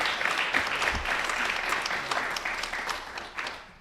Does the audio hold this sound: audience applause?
yes